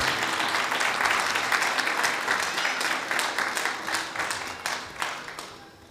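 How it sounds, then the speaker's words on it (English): An audience claps and applauds steadily at a devotional storytelling event at Bhaktivedanta Manor, a dense crackle of many hands that carries on throughout, fairly close. "please give a warm round of applause for Sri Radha Raman and the group."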